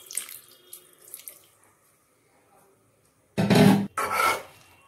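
Water splashes into a pan of Bengali pumpkin curry (misti kumror dalna) in two short, close pours after a few quiet scraping sounds.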